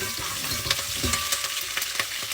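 Curry leaves sizzling and crackling in hot cooking oil in a pan, a steady close frying hiss broken by several sharp pops and spits.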